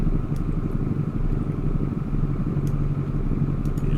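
A car engine idles steadily in a driving video game at around 700 RPM, a constant low rumble with a faint mechanical clatter on top and no talk.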